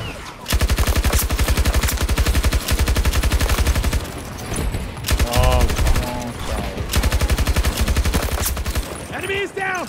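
Sustained automatic gunfire in Battlefield 2042, loud and close, with long rapid bursts, brief pauses and distant shots behind, while voices call out over it.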